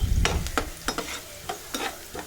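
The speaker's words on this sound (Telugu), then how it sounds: "ఉల్లిపాయలు కూడా వేసేస్తున్నానండి." Onions, with a little ginger added, fry in a pan in a home kitchen, giving a continuous sizzle broken by a run of sharp spatula scrapes and stirs, close and fairly loud.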